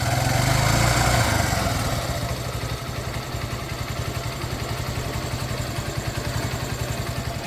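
A motorcycle engine idles close by with a steady, rapid, even thump. It is louder at first as if just blipped, then settles into a smooth, regular putter with no one talking.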